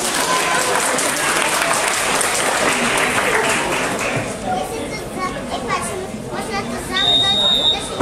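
A crowd applauds and cheers at an American football game between the Wolverines Opole and the Lions Gliwice, loud and continuous, then fades into scattered voices and chatter, with a whistle-like tone near the end.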